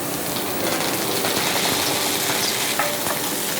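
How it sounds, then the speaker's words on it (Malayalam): Coriander leaves frying with curry leaves and small onions in hot coconut oil, a dense, steady sizzle close up that runs unbroken throughout with faint stirring underneath. "ഇനി ഇതിൻ്റെ കൂടെ ഞാൻ ഈ മല്ലിയിലയും കൂടി ചേർക്കാൻ പോവാണ്"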